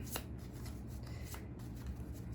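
A deck of tarot cards being shuffled by hand, a short stretch of dense, papery riffling and rubbing, close and fairly quiet, with no voices.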